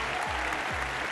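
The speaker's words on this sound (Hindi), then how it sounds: "जोरदार तालियों के साथ स्वागत कीजिए विशाल दुबे का।" An audience at a televised talent competition applauds, a loud, steady, dense wash of clapping throughout.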